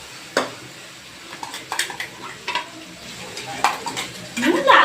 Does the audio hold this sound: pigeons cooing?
no